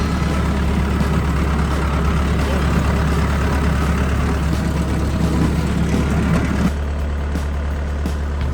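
An old white tractor's engine running close by with a steady low rumbling idle and a constant mechanical clatter, loud throughout, with a slight change in tone near the end.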